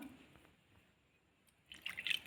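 Water is poured into wheat flour in a bowl while mixing puri dough, a faint trickling splash that rises near the end after a quiet stretch.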